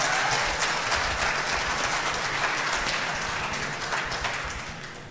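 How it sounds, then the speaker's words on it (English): An audience at a public hearing on a multi-year student assignment plan breaks into steady, dense applause that gradually fades away toward the end. "Please hold applause so that the speaker will be able to hear their names."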